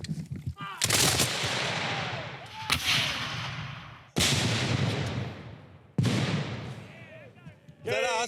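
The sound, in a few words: cannon and rifle fire in Civil War battle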